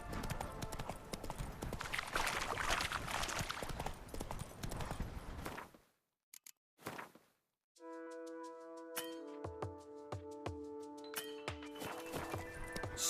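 Hooves of the horse in The Witcher 3, a fast rhythmic clip-clop gallop, loud and close, that cuts out into near silence before giving way to steady game music tones.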